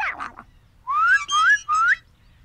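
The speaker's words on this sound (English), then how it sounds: "When I whistle, you come to me" Three short rising whistles in quick succession, close and clear, following a brief burst of sound at the start.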